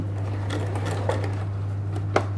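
A sewing machine stitches a stand-up collar, a steady motor hum with faint needle ticking running alone for a couple of seconds.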